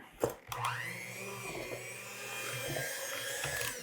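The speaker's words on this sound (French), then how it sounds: "Puis avec l'aide de la mixette, ben, ça enlève les petits grumeaux de sucre en poudre." An electric hand mixer whisks powdered sugar into a caramel glaze, starting with a couple of knocks before settling into a steady, whining motor hum that holds close and fairly constant to the end.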